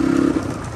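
A motorcycle engine running close by, a loud steady low hum with a droning tone that fades slightly after a moment.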